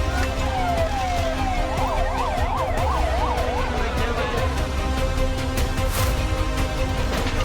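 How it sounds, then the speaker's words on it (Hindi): An ambulance siren at a building collapse site in Kota, Rajasthan, wails and warbles for a few seconds, half-buried in a dense, loud wash of street noise and commotion. "एम्बुलेंस का शोर दहशत फैला रहा है।"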